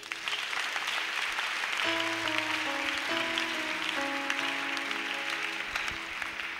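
A church congregation claps together at a service, steady sustained applause filling several seconds, with an organ or keyboard chord playing underneath.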